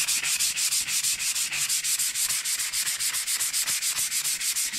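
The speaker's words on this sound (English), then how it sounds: "I'm just going to take a piece of 320 sandpaper." Hand sanding with 320 grit sandpaper on a knife blade, heard as rapid, even back-and-forth rubbing strokes, about six per second, close and steady with no talking.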